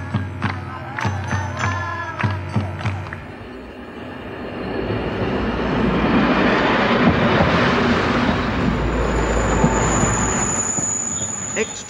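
A train runs along rails in Portugal: a few sharp clicks give way to a steady, loud rolling rumble with high metallic wheel squeal sustained throughout.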